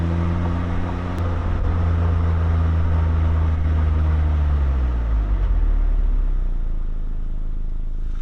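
A Mazda Roadster ND on a narrow island road, engine note sliding down as it eases off and then settling into a low steady drone, close and continuous with no voices.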